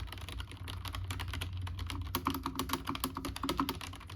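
Fast, steady typing on a low-profile keyboard with tactile switches, with close, crisp clicky keystrokes in a brisk continuous rhythm that grows a little louder toward the end.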